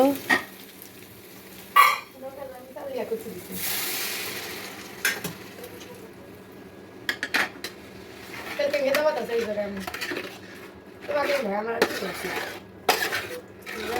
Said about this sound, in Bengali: আমি যে লবণ হলুদ মরিচ আর কি বাকি যা মশলাগুলো দিয়ে দিলাম দিয়ে এখন ভালো করে মশলাটা আমি কষে নিব